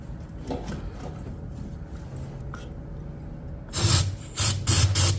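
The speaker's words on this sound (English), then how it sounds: "we need to start spraying some type of starter fluid or something" Several sharp hissing bursts of starter fluid sprayed into a Nissan 240SX S13 engine near the end, following a stretch of quiet background noise and faint knocks.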